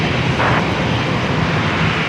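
A Boeing 787 Dreamliner comes in to land, its jet engines giving a steady, broad roar that stays loud and close for the whole short stretch.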